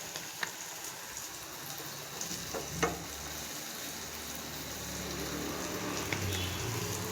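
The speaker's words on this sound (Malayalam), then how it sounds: "ഇത് പെട്ടെന്ന് തന്നെ നമുക്ക് ഫ്രൈ ആയി കിട്ടും കേട്ടോ." Food frying in hot oil in a home kitchen pan, a steady soft sizzle and crackle with occasional small pops, fairly faint and continuous without talk.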